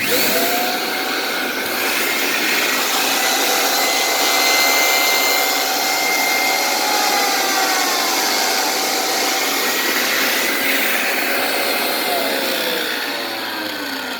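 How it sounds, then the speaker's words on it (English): Kirby Zipp Brush attachment spinning without suction, a steady close whirring motor drone with a shifting whine, running continuously without talk. "Even out of power, it just keeps going. No suction, and it's just spinning."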